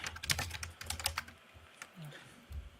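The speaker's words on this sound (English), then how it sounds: "I almost began typing a comment to James, but I remembered I'm still in the call" Close computer keyboard typing in quick bursts of clicking keystrokes, pausing briefly and then resuming with a few scattered taps, no voices.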